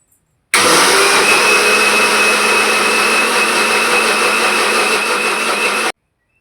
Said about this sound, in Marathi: आता हे मिक्सरला मी बारीक करून घेते तांदूळ आणि उडदाची डाळ